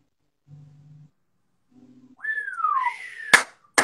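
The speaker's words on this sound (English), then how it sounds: "It's like a breath whistle." A faint, breathy attempt at whistling: a couple of low hums, then a rising-and-falling airy whistle, followed by two sharp bursts of noise.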